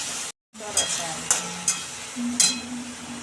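Two chopped onions sautéing over low heat in oil with curry leaves and asafoetida, a steady soft sizzle broken by a few sharp scrapes of stirring, close up and on its own.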